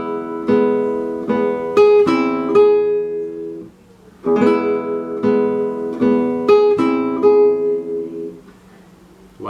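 Solo guitar playing measure 7 in a swing rhythm, plucked notes and strummed chords in two matching phrases separated by a short pause, clear and close with no talking.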